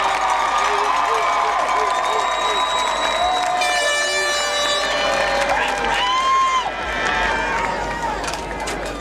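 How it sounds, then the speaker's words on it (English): A graduation audience at Langston University applauds and cheers for families, with crowd clapping, shouts and a loud hubbub of voices mixed with scattered music tones throughout. "give a rousing applause to your family"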